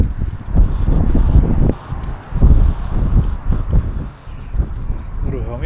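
Strong wind buffets the microphone outdoors before a DJI Avata 2 drone flight, a loud continuous rumbling roar that surges and dips, with someone speaking over it.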